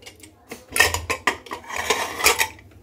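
A pressure cooker of freshly made tomato pulao is opened and handled, giving a run of clanking metal knocks and scrapes from the lid and pot, close and fairly loud, with no talking.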